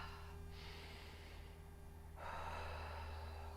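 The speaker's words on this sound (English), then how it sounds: "Inhaling and exhaling." Audible breaths in and out during a squat exercise with arms raised; two soft, airy breaths over a low steady background hum, no talking.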